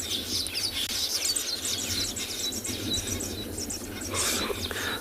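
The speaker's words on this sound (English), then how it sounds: "I always like listening to these weavers." Weaver birds call and chatter in a busy, rapid chorus at sunrise on safari, a continuous buzzy twittering at moderate distance, with some insect hum in the background and no talking.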